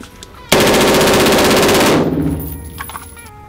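An AR-15 rifle fires fully automatic from an Amend 2 magazine, one loud close burst of rapid shots lasting about a second and a half, then echoing away outdoors.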